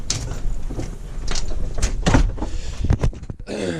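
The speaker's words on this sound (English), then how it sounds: "I'll shut this door real quick." A Lexus IS250 car door swinging and shutting, with a few knocks and a solid thud near the middle, heard close up amid some handling noise.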